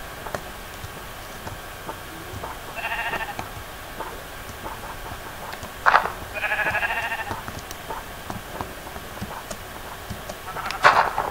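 Sheep in the Minecraft video game bleat in three separate bursts, each a short wavering call, spaced a few seconds apart over a quiet farm background with faint ticking.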